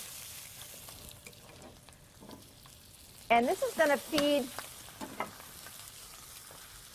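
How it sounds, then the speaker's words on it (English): Pork tenderloin sizzling in a hot pan, a steady hiss throughout, with someone speaking briefly over it. "I'm going to get my pork tenderloin in a nice hot pan. That's the sizzle you want to hear."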